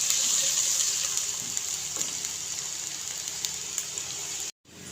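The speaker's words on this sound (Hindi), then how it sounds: "ये 1 से 2 मिनट हम अदरक और हरी मिर्च को फ्राई करेंगे" Ginger and green chillies fry in a pan of oil, giving a steady, even hiss and sizzle that holds without a break and then cuts off suddenly near the end.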